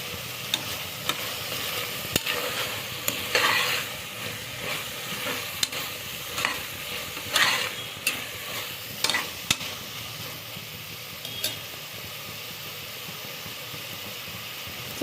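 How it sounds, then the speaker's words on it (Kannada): Capsicum and tomato frying in a pan for capsicum tomato rice, a steady close sizzle with repeated spatula stirring scrapes and bursts of crackle, no voices. "ಇವಾಗ ಫ್ರೈ ಆಗಿದೆ ನೋಡ್ತಾ ಇದ್ದೀರಲ್ವ, ಈ ಥರ ಮೆತ್ತಿಗೆ ಫ್ರೈ ಆಗಬೇಕು."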